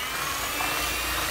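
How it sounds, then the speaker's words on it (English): Electric whisk whipping cream past the whipped stage into butter in a home kitchen, a steady loud whirring motor drone that holds without pause. "I'm going to whisk it a little bit more and turn it into butter"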